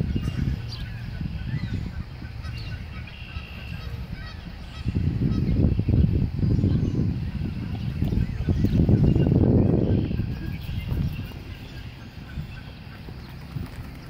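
Geese honk near a group of swimming goslings, with soft calls early on followed by louder, heavier bursts of honking and splashy outdoor noise around the middle.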